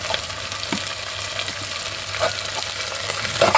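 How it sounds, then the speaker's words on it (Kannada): Chopped capsicum and onion fry in a pan with a steady crackling sizzle, occasional stirring taps and scrapes near the end, close and moderately loud, no talking. "ಈಗ ದಪ್ಪ ಮೆಣಸಿನ್ಕಾಯಿ ದೊಡ್ಡ ಮೆಣಸಿನ್ಕಾಯಿ ಅಂತೀರಲ್ಲ ಅದನ್ನು ಹಾಕ್ತೀನಿ"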